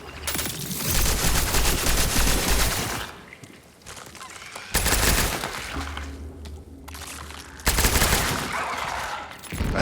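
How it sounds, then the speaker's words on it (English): Rapid automatic gunfire from a new weapon in the video game Cronos: The New Dawn, three dense bursts separated by short lulls, loud and close. "Okay, let's try this new gun."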